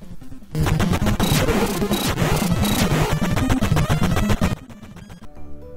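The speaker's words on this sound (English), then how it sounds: "I also like the sound effect when you make contact with the boss." Teenage Mutant Ninja Turtles NES game audio carries a dense burst of loud chiptune music and sound effects as a hit lands on the boss, lasting about four seconds before dropping to a quieter tail.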